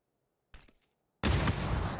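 In the PUBG video game, a single gunshot rings out after a brief pause, then a loud sustained burst of gunfire fills the rest of the moment.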